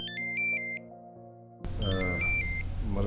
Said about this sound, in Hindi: मरवा का फ़ोन है।